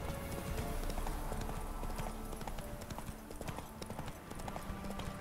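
Rapid, steady clip-clop of hooves on hard ground in The Witcher III, several saddled horses trotting close by with no voices.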